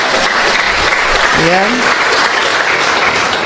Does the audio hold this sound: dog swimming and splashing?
no